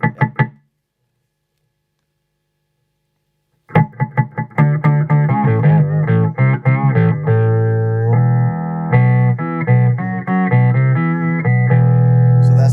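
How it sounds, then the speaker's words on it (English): An electric guitar runs through a TC Electronic Sub 'N' Up Octaver pedal. After a short silence, a string of plucked notes rings out with thick, round octave-doubled tones, loud and close, building into sustained chords. "a quick gateway to some rounder, more vintage type octave tones"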